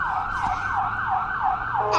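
Ambulance siren wailing in a repeating rising-and-falling sweep, loud and close, with faint road traffic underneath and no talk.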